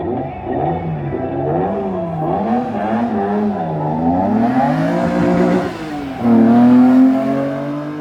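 A car revs hard at a hill climb race, the engine note rising and falling in repeated surges before climbing to a sustained high-pitched howl, loud and close throughout.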